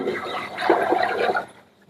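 Water pours steadily into a cooking pot for mutton biryani, measured out as six glasses for three glasses of rice, giving a continuous splashing gush that fades out near the end.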